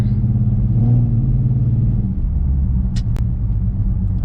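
A 4.0 V6 Ford Mustang running an idle chop mod rumbles steadily at idle with a lumpy, uneven low throb, heard from inside the car, with a couple of brief sharp clicks near the end.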